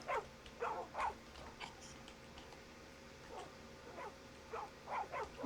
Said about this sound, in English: We got a ton of dogs.